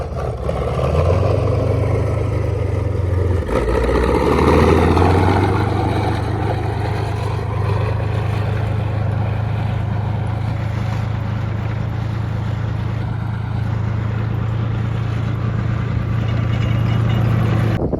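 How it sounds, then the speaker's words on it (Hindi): A T90 Bhishma tank's engine running near Umling La, a loud continuous low rumble with a steady deep drone that briefly shifts pitch early on, then holds constant, close and heavy, with no talking. "everybody is very excited to ride a tank T90 called Bhishma"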